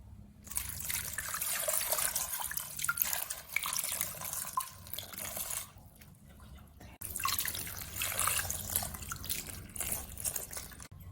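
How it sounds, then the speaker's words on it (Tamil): Water poured into a cooking pot over palmyra tubers in an outdoor garden kitchen, a steady splashing trickle in two long pours separated by a short pause, close and moderately loud. "இது முங்குற அளவுக்கு முதல்ல தண்ணியை ஊற்றிக்குங்க"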